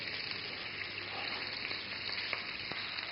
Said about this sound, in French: on commence par faire revenir la viande